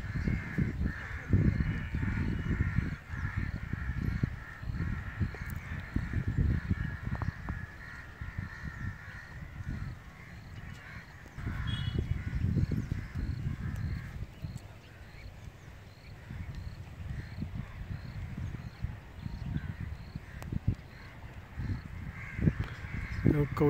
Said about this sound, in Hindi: कौवे कितने आ रहे हैं